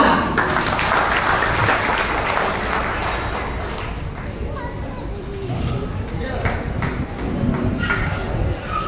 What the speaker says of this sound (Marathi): गुरुकुल माऊली विभाग सांभाळणाऱ्या सोमवारला जोरदार टाळ्या.